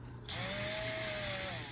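A power drill whines steadily as it bores into the aluminum nitrogen reservoir of a FOX high-volume shock, starting abruptly and holding a sustained high tone close to the microphone with no talk.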